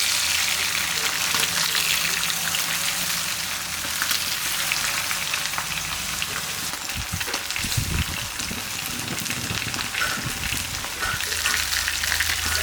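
Karimeen fish frying in a pan, a steady broadband sizzle of hot oil that runs the whole time, with a few louder crackles and stirring clatters partway through.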